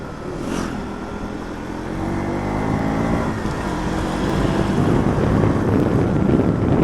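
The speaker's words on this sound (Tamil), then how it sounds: "காற்று அடிக்க ஆரம்பிச்சிருச்சு." Wind buffets the microphone in a steady, roaring rush during a KTM Duke 200 ride up the hairpin-bend road from Pollachi to Valparai, with low engine rumble beneath; it swells slightly louder toward the end.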